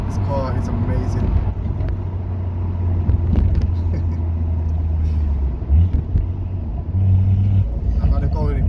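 A tuned 460 bhp Stage 2 BMW M140i with a Quicksilver exhaust, a deep steady engine rumble filling the clip with a brief lift in revs near the end.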